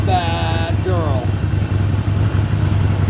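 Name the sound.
Harley Davidson 48 1200 XL Sportster engine running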